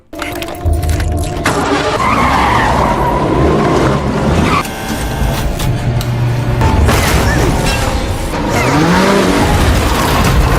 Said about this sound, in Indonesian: mobilnya pun malah selip